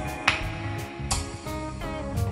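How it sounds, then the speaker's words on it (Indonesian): Concert hall echo effect on a Mackie ProFX8 mixer: short sharp clicks or snaps, each trailed by a lingering reverberant tail over a steady tonal background, with no voices. "Jadi ini suara echo-nya tuh lebih ke crispy-crispy gitu ya."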